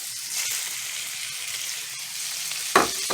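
Browned Italian sausage with onion, green pepper, red pepper and celery sautéing in a pan for Cajun dirty rice, a steady close sizzle that ends with a sharp clatter of a utensil.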